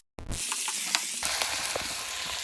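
Capsicum frying in a hot pan gives a steady, close, loud sizzle that starts abruptly and holds throughout, with a few small clicks and stirring touches in the hiss.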